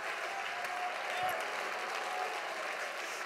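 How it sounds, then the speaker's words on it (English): Church congregation applauding during worship, a steady dense clapping from many people throughout, with a faint voice briefly audible beneath it. "Come on, clap your hands,"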